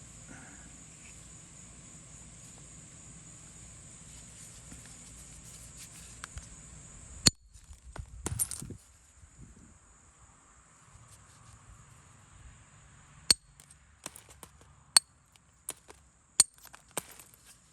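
Flint Ridge flint is struck with a small solid copper percussor, giving several sharp, ringing clicks spaced irregularly in a quiet setting, with a brief rustle of flakes after one blow.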